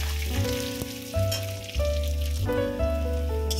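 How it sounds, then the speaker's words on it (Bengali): Onions and green chillies frying in a pan, a steady close sizzle with occasional stirring scrapes and bursts, alone without voices. "পেঁয়াজগুলো হালকা লাল লাল করে"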